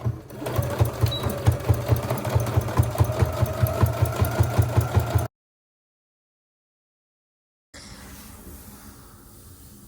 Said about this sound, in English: I'm going to sew along the edge with a 1 centimeter seam